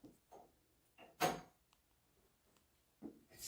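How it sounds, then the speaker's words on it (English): During a paranormal investigation inside an old mortuary, a single dull thud like a door shutting lands once, sharp but distant, among a few softer scattered knocks in an otherwise quiet room. "To me, it sounded like a door shutting."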